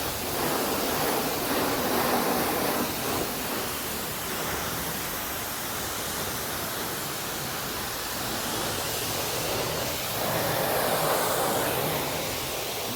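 A coin-operated pressure washer sprays water over a car at a self-service car wash, a loud steady broadband hiss that swells and eases as the spray moves, no talking.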